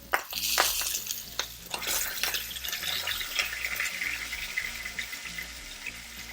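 Salmon fillet sears skin side down in a hot pan, a steady bright sizzle and crackle with scattered pops and light spatula clinks, fairly close and with no talking.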